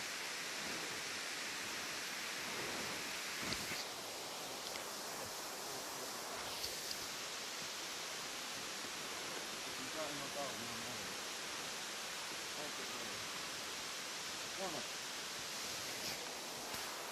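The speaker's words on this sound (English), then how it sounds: "this is the upper part of the waterfall, because there was one further down as well." Indoor waterfall inside the Eden Project rainforest biome, heard as a steady, full rushing wash of falling water that runs unbroken throughout, with brief faint voices and rustles over it.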